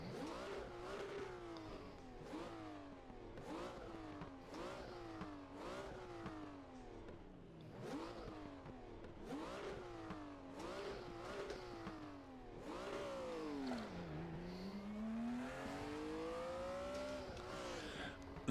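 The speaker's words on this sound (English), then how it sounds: "you can hear what the electric car actually sounds like" A Volkswagen ID R electric race car in the RaceRoom racing game, driven on the Nordschleife, lets out a steady run of rising electric whines that repeatedly climb and drop back, loud and close with no talking.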